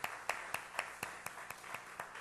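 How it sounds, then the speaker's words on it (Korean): Congregation in a church youth service clapping in a steady rhythm, about nine evenly spaced claps over a couple of seconds, faint and somewhat distant in a roomy hall. "우리 함께 자리에서 일어나시고 힘차게 박수하고 축복하겠습니다"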